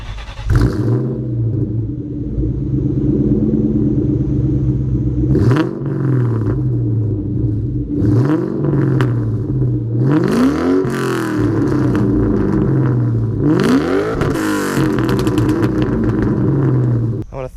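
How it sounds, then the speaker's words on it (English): A 2004 Ford Mustang revs its exhaust, a deep steady idle rumble broken by several sharp throttle blips that rise and fall, loud and close throughout. "Now let's cut to an exhaust clip."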